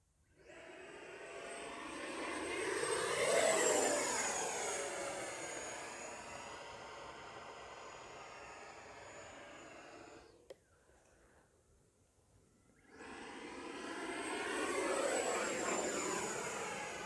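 A radio-controlled F-18 Blue Angels jet with an 80mm electric ducted fan whooshes past, its whine rising and falling with Doppler sweeps, drops out briefly, then returns for a second pass, moderately distant with no talking.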